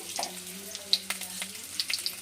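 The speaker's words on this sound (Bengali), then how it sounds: "একটু জিরে ফোড়ন দিয়ে দিয়েছি" Cumin seeds and a bay leaf tempering in hot oil, a light close sizzle with scattered sharp pops and crackles over a few seconds.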